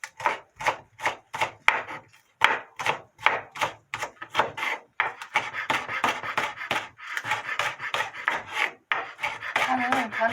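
A knife chopping spring onion finely on a board, quick rhythmic close taps in bursts, then a denser run of rapid mincing strokes, with no talking.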